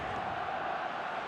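Stadium crowd in the eFootball video game, a dense continuous roar of many spectators at steady loudness with no break.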